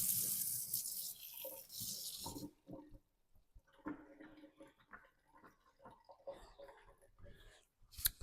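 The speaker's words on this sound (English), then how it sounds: "Now we're going to quickly give this a rinse." Tap water runs for a couple of seconds as something is rinsed in a kitchen sink, a steady close hiss, then stops, leaving faint handling clatter and knocks.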